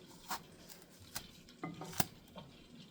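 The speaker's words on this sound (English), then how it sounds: "really peel off the skin with a knife like this" A knife peels the skin from an eggplant with a series of faint, soft scraping and tapping strokes, irregularly spaced and close up in a quiet kitchen.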